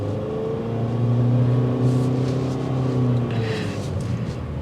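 Steady low engine drone from a 2024 Honda HR-V Sport while driving, a sustained humming note that holds level and close for several seconds with road rumble beneath and no talk.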